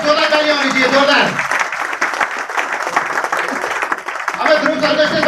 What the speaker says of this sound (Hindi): चारों सर के लिए जोरदार तालियां होनी चाहिए, जोरदार।